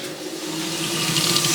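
Steady rush of water running from a pump-fed tap, a continuous close hiss with a faint tonal hum underneath, growing slightly louder toward the end.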